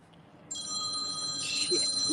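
A phone rings with a bright, sustained electronic trill that starts abruptly and continues loud and close, with only faint background sound.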